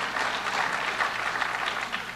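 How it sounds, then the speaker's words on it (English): An audience at a New York City Council event on local food and agriculture gives a brief round of applause, a steady wash of clapping at moderate distance with no voices over it. "That does deserve a round of applause"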